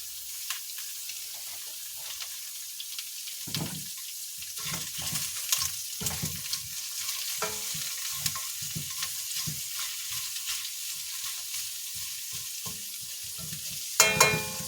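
Food stir-frying in a wok, with a steady hiss of sizzling broken by scraping and clattering stirs throughout, close by, ending in a louder burst of sizzle.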